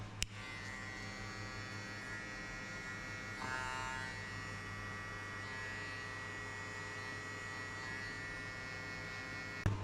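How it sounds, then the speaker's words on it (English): An electric hair clipper buzzes steadily and up close while cutting a mid skin fade, a constant hum with little change. "We will cross the clipper halfway and we hit only this line."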